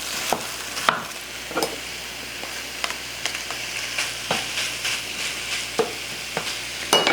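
Ground beef, a few pounds of it, browning in a pan for cottage pie, giving a steady sizzle with intermittent sharp scrapes and taps as a meat masher stirs and breaks it up, close and alone.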